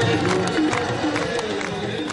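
A whipped-up crowd at a Sri Sri Ravi Shankar spiritual gathering cheers and shouts continuously, with a dense, loud wall of voices and scattered whoops swelling over one another throughout.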